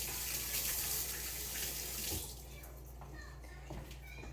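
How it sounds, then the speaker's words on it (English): Tap water pours steadily into a kitchen sink during hand washing while making meatloaf, a loud continuous rush for about two seconds, then eases to a softer trickle with light splashing. "Wash your hands."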